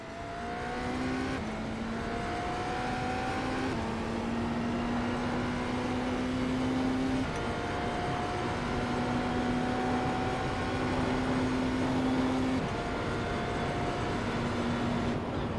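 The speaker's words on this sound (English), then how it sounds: "I don't like the noise that this car makes." Cadillac race car in a racing sim holding a loud, steady engine drone with tonal rises and drops through gear shifts, running continuously with no talk.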